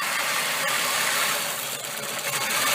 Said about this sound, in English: You're going to hear the engine get really rough